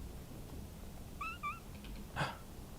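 A cat meows twice in quick succession in the Powerwash Simulator 2 video game, followed by a slightly louder third meow, all over a steady low background hum.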